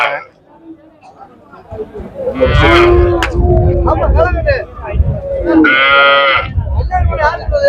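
Cattle moo repeatedly at a busy livestock market in Devakottai, several loud calls rising over a background of chatter and people talking nearby.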